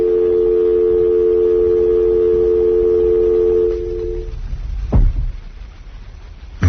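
A telephone line on a radio call-in show gives a steady dial tone for several seconds, then cuts to a few loud, sharp dialing clicks and tones, clear and close with no talk over them.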